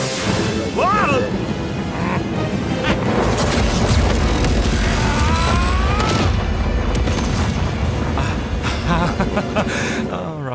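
Animated film scene of a death ray firing and exploding, a loud sustained roar of blasts and rumbling effects throughout, with shouting voices over it.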